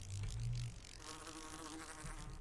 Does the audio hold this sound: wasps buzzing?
yes